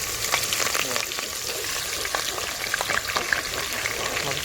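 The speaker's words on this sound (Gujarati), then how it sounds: "જીરું તો નાખી દીધું છે. હવે એમાં આવે છે પેલા મરચાં" Green chillies hit hot oil already tempered with cumin for a cluster bean and brinjal curry cooked outdoors in a Chhattisgarh forest, giving a loud, continuous close-up sizzle with crackling spits and stirring.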